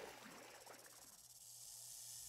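A snake in the survival game 7 Days to Die gives a faint, drawn-out hiss that builds into a steady airy wash, heard quietly and alone.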